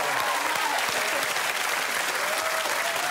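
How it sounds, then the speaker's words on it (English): Studio audience applause on a TV game show, a continuous even wash of crowd clapping, steady and moderately loud throughout, with faint voices underneath. "we should have a round of applause for Aisling's mum"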